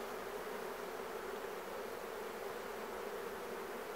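Honeybees buzzing at an opened beehive while it is being hived and fitted with a super, a faint, even, continuous hum with no voices.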